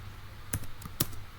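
A few sharp, separate key taps sound on a computer keyboard as a command is typed while configuring VLANs, close but faint over a low steady hum.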